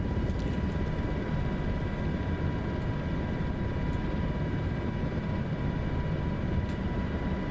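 MH6 helicopter droning in a flight simulator game, a steady dense engine and rotor rumble with an even, unbroken wash of noise, moderately loud and alone throughout.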